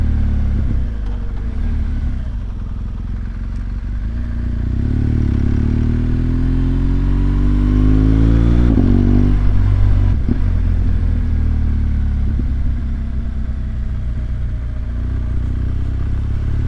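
Motorcycle engine droning steadily while riding a gusty, windy mountain road toward Cape Town, with wind buffeting and a brief rise in engine pitch midway, continuous and close.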